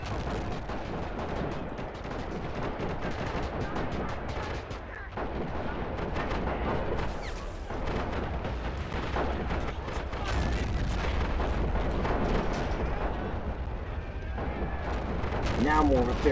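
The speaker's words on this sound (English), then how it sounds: "This artillery cannon is now making more head leeway." Artillery cannons fire in a simulated battle for Pork Chop Hill between the Blue&Tan alliance and USA, with a dense, continuous rumble of booms and gunfire throughout, a voice talking over it.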